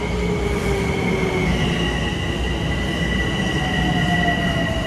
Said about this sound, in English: Let's look at the next train coming.